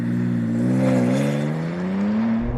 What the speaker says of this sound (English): The second thing I have to do on my list when first driving the new M4 is, of course, to launch it.